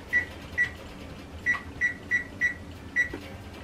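Oven control panel beeping as it is set to preheat to 375 degrees: seven short, clear electronic beeps at an uneven pace over a quiet kitchen background, with no talking.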